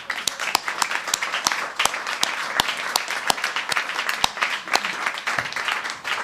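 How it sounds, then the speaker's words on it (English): Scattered audience applause at a housing awards ceremony, a few loud individual claps standing out over a steady patter of hands, sustained for several seconds with no talk over it. "these two men deserve a round of applause"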